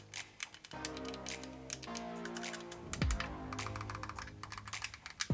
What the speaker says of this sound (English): And all the buttons are really clicky. So if you can hear this.